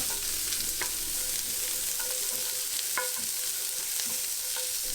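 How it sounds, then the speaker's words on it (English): Onions sauté in a pan while making chopped steak with onions and mushrooms, a constant hissing sizzle with a few quick spatula clicks and scrapes, no voices. "I'm going to add in my onions and saute them for about 2 or 3 minutes"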